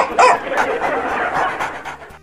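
A small dog barks and yips in quick, close bursts, with some whimpering and panting between the barks.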